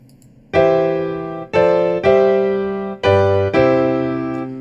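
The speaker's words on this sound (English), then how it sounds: "and now the cadential 6/4 sounds like this." Five sustained piano chords of a cadence with a cadential six-four, played one after another at a steady, unhurried pace, each ringing clearly before the next, loud and close with no voices.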